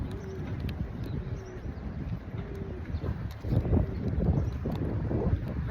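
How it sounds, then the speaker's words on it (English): Wind blowing at a bay dock, a steady low rumble buffeting the microphone throughout, swelling stronger in the second half, with faint distant sounds in the background. "Really is, the wind's picking up."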